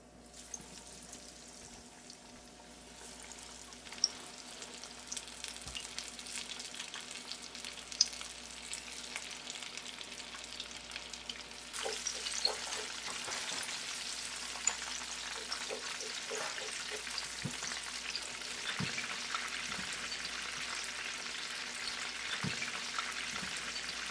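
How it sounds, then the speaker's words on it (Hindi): Chicken tenders deep-frying in hot oil, a steady crackling sizzle that swells louder about halfway through, with occasional clinks and stirring noises and no talking. "चलो अब इसे फ्राई करते हैं"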